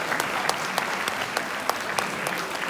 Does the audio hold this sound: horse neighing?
no